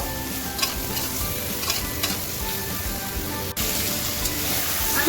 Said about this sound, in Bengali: ঝিঙেগুলো দিয়ে আমি আবারও 2 মিনিট একটু ভালোভাবে নেড়ে চেড়ে ভেজে নেব